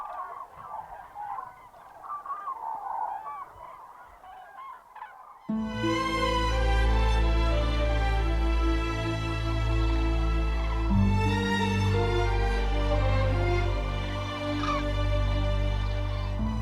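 A flock of wintering cranes calls at night, beginning as a loose distant chorus of scattered calls and then swelling into a loud, dense, continuous chorus of trumpeting and honking from many birds close by.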